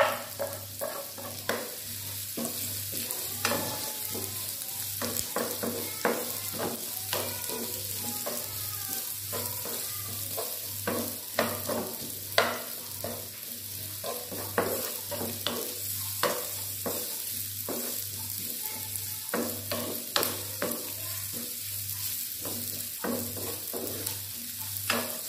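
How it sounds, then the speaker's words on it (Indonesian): Garlic sizzles in oil in a pan for Balinese stir-fried water spinach, a steady close crackle with frequent stirring scrapes and pops throughout. "Sekarang kita goreng bawang putihnya."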